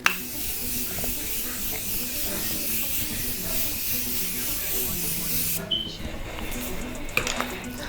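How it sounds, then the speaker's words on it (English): A Morphe setting spray hisses, misting onto a face continuously for several seconds, fairly close, then cuts off, followed by soft handling noises. "So we're gonna mist with the Morphe setting spray."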